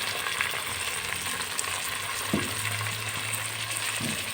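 Peeled tomato and a teaspoon of salt frying in a pan for vegetable biryani, a steady close sizzle and crackle with a few soft stirring knocks, no talking.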